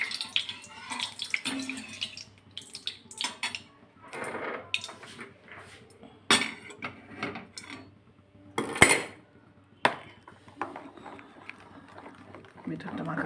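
A spoon works kheer malpua batter with oil and ghee in a bowl, giving irregular scraping clinks and a few sharper knocks against the side, heard under someone talking.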